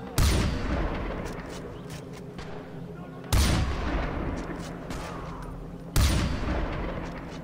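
Gunfire in the video game Far Cry 4, three loud booming shots about three seconds apart, each trailing off in a long rumbling decay, with faint voices underneath.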